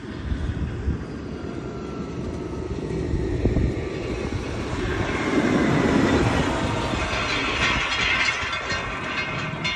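A large truck passing on a road in rural England, heard as a steady, loud, close rumble with broad roaring road noise throughout, rising slightly midway, with no voices.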